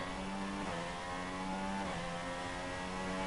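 Engine of a Formula 1 car in a racing video game at the Australian Grand Prix, a loud continuous high-pitched whine with shifting pitch as the car brakes and accelerates, steady throughout with no talk.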